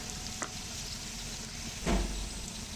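Turmeric and chili powder hit hot oil in a pan while making a Bangladeshi shing fish curry with tomato, giving a steady soft sizzle with a brief louder crackle, close and alone.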